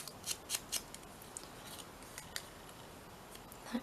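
Scissors snipping through scrap paper or fabric during a vintage-style Christmas craft project, a few quiet, close crisp cuts spaced unevenly over a faint room background.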